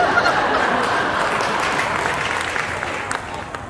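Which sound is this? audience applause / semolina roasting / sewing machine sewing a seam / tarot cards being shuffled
audience applause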